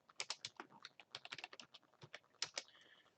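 Quick, close keystrokes on a computer keyboard tap out a short tab name in a fast, uneven rhythm with brief gaps between clusters of presses.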